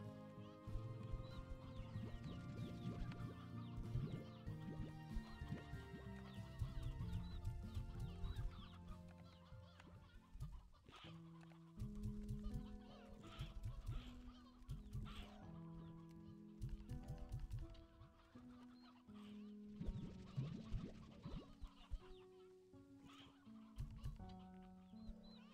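Chickens and roosters cluck repeatedly in Slime Rancher 2, a busy run of farm-bird calls layered over tonal game music for about twenty-five seconds.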